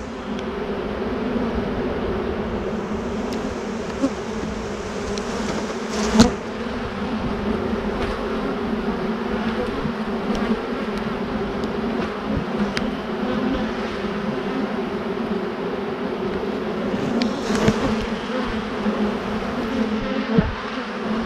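Honey bees drone steadily around an open hive during an early spring inspection, a constant close buzzing with occasional louder passes and light knocks, no voices over it.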